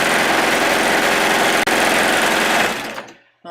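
A sewing machine stitching swimsuit fabric runs at a fast, steady buzzing rattle, up close and loud, with a tiny hitch midway before slowing and stopping near the end.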